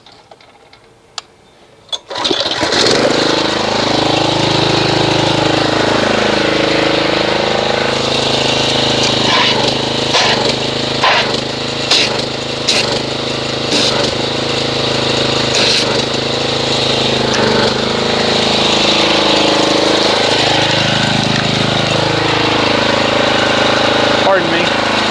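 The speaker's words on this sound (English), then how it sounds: "let's get the pressure washer and see what kind of foamage it makes when we agitate it" Pressure washer engine starting up and running steadily for a foam soap car-washing test, a loud continuous mechanical drone close by, with a few clattering knocks near the start.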